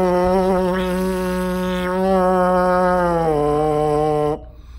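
Lips buzz into a trombone mouthpiece, producing a steady, loud tone held for about four seconds. The pitch steps down once near the end before the buzz cuts off abruptly.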